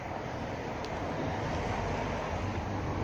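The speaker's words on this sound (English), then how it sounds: "Rush of waves through rocks." Sea waves rush through rocks at a tidal blowhole in Bullock Harbour, Ireland, a loud continuous roar of churning surf and spray with wind buffeting the microphone, no voices.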